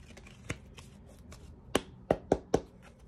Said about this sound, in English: I'm just gonna give it a quick shuffle